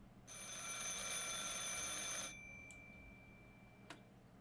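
A telephone rings in the video game Martha Is Dead, a sustained bright electric bell tone lasting about two seconds, followed by a faint click and a brief sharp tick in an otherwise quiet room.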